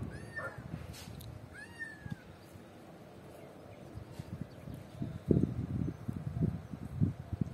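A recorded kitten distress call plays from a phone, with two short, thin meows early on, then faint rustling and soft thuds nearby.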